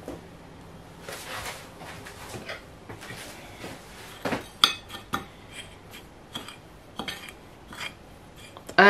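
Gluten-free panko and parmesan cheese are combined in a bowl, with a run of close clinks, taps and scrapes of a utensil against the dish, some louder knocks mixed in.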